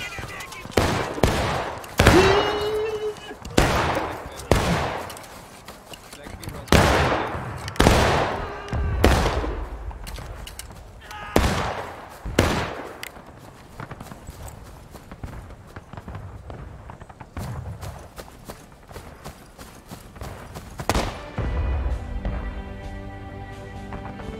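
Rolling musket volleys and scattered single shots ring out on a Civil War battlefield in War of Rights, loud bursts repeating every few seconds, some clustered, with hoofbeat-like thuds and a brief voice in between.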